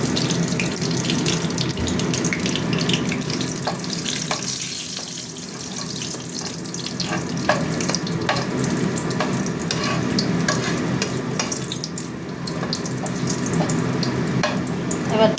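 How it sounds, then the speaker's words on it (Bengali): Dried red chilies and a bay leaf hit hot oil that has a little sugar in it, giving a steady, fairly loud sizzling hiss that runs unbroken with faint stirring clinks and no talking. "তেল গরম হয়ে গেছে, শুকনো লঙ্কা তেজপাতাটা দিয়ে দিলাম।"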